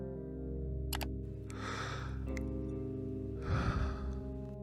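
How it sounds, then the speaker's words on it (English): Breathing recorded for a tweet: two slow, close, breathy exhales or sighs spaced a couple of seconds apart over a faint steady hum, with no words spoken. "he made a tweet of him breathing"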